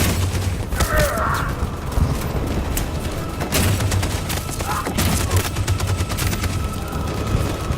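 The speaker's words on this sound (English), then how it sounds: "That machine gun is taking down everything that moves!" In the Detroit Become Human video game, a machine gun fires dense, continuous bursts during a street revolution, loud and close, with booms and thuds mixed into the barrage.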